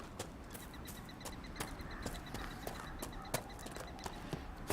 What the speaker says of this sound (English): Almost there. I see horses.